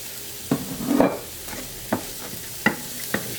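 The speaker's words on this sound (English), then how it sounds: "I'm going to add half of a medium yellow onion, finely diced, and 1 stalk of celery," Finely diced yellow onion and celery sizzle gently in a pan with butter, punctuated by a few sharp scrapes and taps of stirring.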